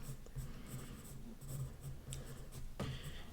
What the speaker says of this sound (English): I'm gonna go through it with my outliner already